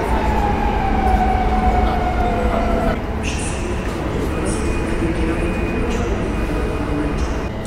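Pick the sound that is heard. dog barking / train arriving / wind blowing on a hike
train arriving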